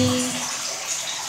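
Water sloshes and splashes in a basin as laundry soaks in fabric softener, a short close wash of running, swirling water.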